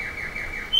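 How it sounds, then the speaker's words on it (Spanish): Small birds chirp in the background, a steady high warbling call that carries on without a break, with a sharper, brighter note at the very end and no talk. "ya que estamos escuchando de fondo, pues aprovechamos. Pájaros."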